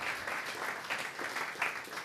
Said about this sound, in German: Da kann ich vielleicht mal ganz kurz um einen Applaus bitten